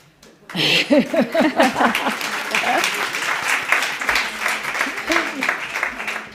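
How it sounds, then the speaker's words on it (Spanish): A burst of applause from a crowd, steady clapping that swells quickly and continues, with a voice and some laughter mixed in early on. "Un aplauso para todas."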